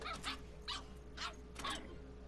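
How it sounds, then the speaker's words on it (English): A puppy yaps four times in short, high-pitched barks spaced roughly half a second apart, faint and somewhat distant, over a low steady background hum. "She got a puppy."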